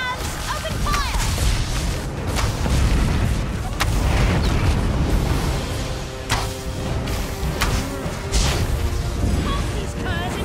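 Ship cannons boom repeatedly in The Elder Scrolls Online during a Thrall Cove world boss fight, with heavy blasts layered over battle noise and a continuous game soundscape.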